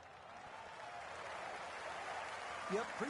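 Light, moderate applause from a golf gallery in a PGA Tour video game career mode after a five-foot par putt, soft and distant under a commentator's voice.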